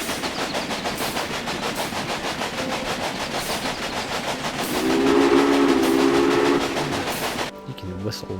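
In the game Railway Empire, a train's steam whistle sounds over a steady rhythmic clatter of wheels and engine, the whistle blowing for about two seconds midway before the noise cuts off.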